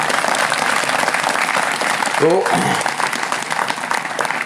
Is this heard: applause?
yes